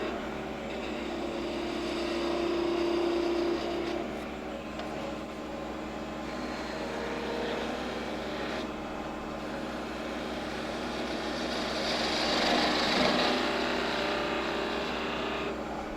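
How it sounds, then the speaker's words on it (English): A skew chisel cuts a cove in wood spinning on a lathe, a steady droning motor hum carrying a soft continuous hiss of the cut that swells a little near the end. "I'm going to take my skew and start making my cove here a little nicer."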